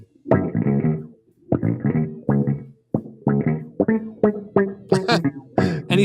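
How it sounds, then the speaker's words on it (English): A bass guitar line played through a Neutron phaser with a touch of wah effect, with punchy, syncopated plucked notes and short gaps between phrases, heard alone and loud with no talk over it. "he's got this Neutron phaser and maybe a little bit of a wah effect on there"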